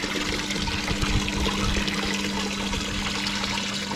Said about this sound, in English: Water's going everywhere except in the tub.